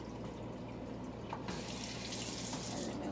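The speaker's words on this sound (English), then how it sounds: "Wash my hands there." Tap water runs steadily into a sink while hands are washed during burger prep in a home kitchen, a continuous moderate rush that grows a little brighter and fuller partway through, with no talking.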